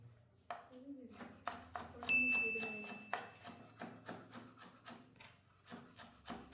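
A knife strikes a wooden board in a quick run of sharp, evenly spaced taps while a red tomato is finely chopped, close and fairly quiet, with a voice speaking briefly partway through.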